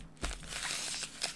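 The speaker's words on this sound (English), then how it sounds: "let's just shuffle these packs around a little bit," Foil-wrapped 2023 Topps Heritage trading card packs from a Walmart mega box are shuffled by hand, giving a steady crinkly rustle with a sharper crunch near the start and another near the end, close and with no talking.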